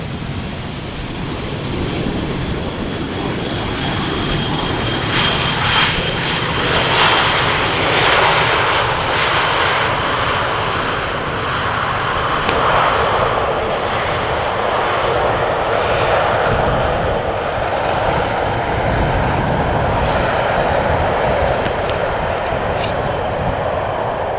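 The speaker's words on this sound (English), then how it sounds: "This EasyJet Airbus A319 is coming in from Milan in Italy." An easyJet Airbus A319 jet lands at Amsterdam Schiphol, a loud sustained engine roar with wind-like rushing that swells and lingers across the runway, steady throughout.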